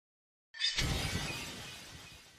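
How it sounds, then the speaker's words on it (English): Meat on the bone shattering when bitten in the video game SOULSOV, a sudden loud crash that bursts in and rings out with crumbling debris, fading slowly over about two seconds, alone with no voices. "When I try to take a bite, it shatters."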